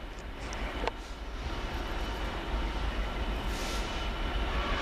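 Freightliner freight locomotive 66517 hauling an intermodal train from Doncaster toward Felixstowe, passing close with a sustained heavy rumble and a brief sharp squeal early on.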